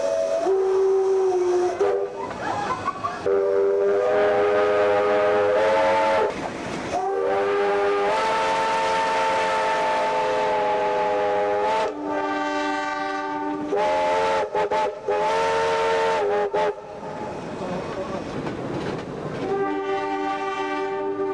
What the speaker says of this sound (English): Then it's off into the night, with plenty of whistles.